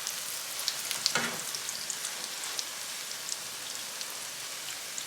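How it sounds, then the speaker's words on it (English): Eggs fry in plenty of oil for a Haitian street-food fried egg sandwich, giving a steady, soft crackling sizzle with scattered small pops, fairly quiet and uninterrupted. "you're frying the egg and it's like lots of oil and not too healthy"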